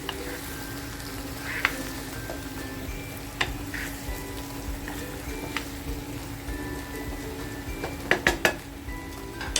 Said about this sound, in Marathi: परत एकदा भाजी हलवून घेते